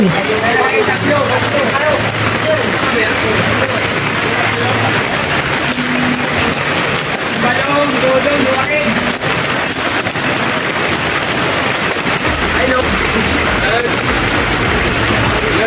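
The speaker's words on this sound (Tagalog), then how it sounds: "Lakas pa ng ulan." Heavy typhoon rain pours steadily, a dense, loud hiss of drops drumming on surfaces throughout, with faint voices now and then beneath it.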